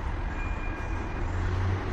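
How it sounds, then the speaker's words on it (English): A tram rolls along a city street in Antalya's old town centre, a steady close rumble with a faint high whine and no pauses over the short stretch, with no talk. "So that street is the tram street that goes all the way there."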